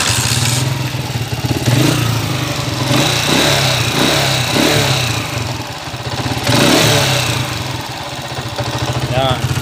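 A motorcycle with a carburetor being tuned at the air screw, engine idling roughly then rising and falling in several revs, close and loud, with someone talking over it.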